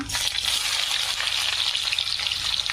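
Garlic, mustard seeds and cumin fry in hot oil, producing a loud, continuous, dense crackling sizzle that stays steady from start to finish.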